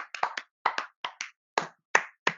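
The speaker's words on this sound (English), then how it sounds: "We're going to clap." Several people clapping a quick, irregular run of about a dozen close, sharp claps in small bursts, cleanly separated by silence, to kick off a show.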